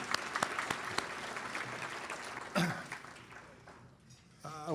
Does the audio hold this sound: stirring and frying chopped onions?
no